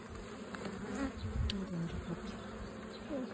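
Honey bees crawling and buzzing in an opened hive, a dense steady droning hum of many insects, fairly soft and continuous with no talking.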